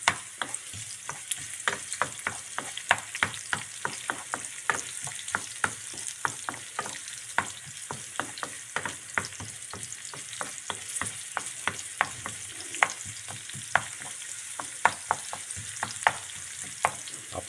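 Leeks, turnips and onions fry in olive oil in a pan, a continuous close sizzle broken by regular scraping stirs about every half second, with no voices.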